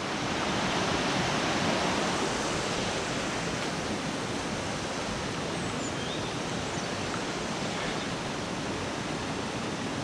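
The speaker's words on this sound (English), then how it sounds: "this is the Roslin Glen River" River rushing through Roslin Glen in Midlothian, a steady broadband wash of flowing water, fairly close and continuous without pauses or talk.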